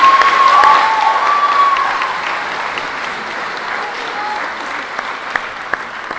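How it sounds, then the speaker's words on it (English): Applause at a 2017 high school graduation ceremony, a loud burst of clapping from the audience that peaks early and then settles into steadier, slightly quieter clapping with a few sharp individual claps near the end. "please give us a round of applause for this achievement"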